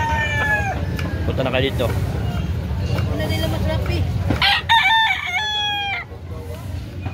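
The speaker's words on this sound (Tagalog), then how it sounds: "Mga guwapong manok, mga di kamayan" Several roosters crow in rising, strained calls over the dense clucking of birds at a busy chicken market in Carbon, Cebu. Someone talks among them, and the later crows come close and loud.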